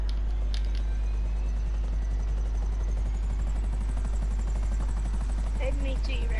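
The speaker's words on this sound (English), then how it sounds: "We can just use these buzzards. Nah, take me to another helicopter." A Buzzard helicopter in Grand Theft Auto drones with a constant whirring rotor and engine hum, steady and unbroken, with a few faint sharp game sounds mixed in.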